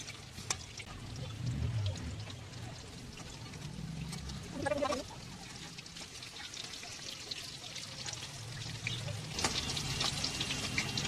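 Whole eggs deep-fry in white oil in a kadai for egg chilli, giving a quiet, steady sizzle and bubbling with a few soft clinks.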